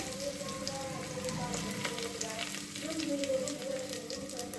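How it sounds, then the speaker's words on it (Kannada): Onion and curry leaves frying in hot oil, a steady close sizzle and crackle that runs continuously with slight swells, alone without any talk. "ಕರಿಬೇವೆಲ್ಲ ಚೆನ್ನಾಗಿ ಫ್ರೈ ಆಗಿದೆ."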